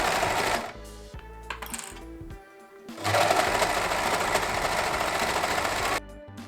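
A sewing machine stitches the shoulder seams of a sweatshirt, running in close, loud bursts with a brief pause mid-way before it whirs steadily again.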